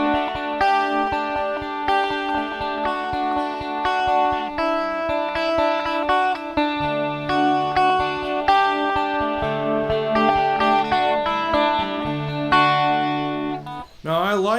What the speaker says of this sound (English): I'm going to give you a vibe pedal to hear kind of what it's going to sound like.